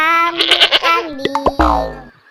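A goat bleats loudly and close by, two or three wavering, nasal bleats in quick succession that end in a trailing cry, with no other sound behind it.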